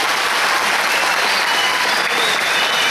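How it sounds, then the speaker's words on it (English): An audience at a rural IT quiz national final in Bangalore bursts into dense, loud applause, a steady wash of clapping that fills the whole stretch. "They deserve a better applause."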